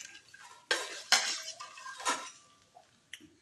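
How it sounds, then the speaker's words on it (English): A metal utensil scrapes and clinks against a pot while eggs are stirred for breakfast, a few sharp knocks and scrapes up close, fairly loud, with no voices. "I'm stirring."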